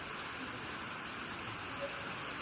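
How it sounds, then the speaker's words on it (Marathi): Steady rain hisses in a dense, even wash of drops, faint and continuous, with no voices. "एक सर आले पावसाची जोराची"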